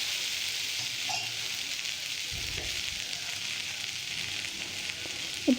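Raw plantain sautéing in a pan for poriyal, a steady, even sizzle throughout with a soft stirring thump near the middle and a brief clink at the end, no talking.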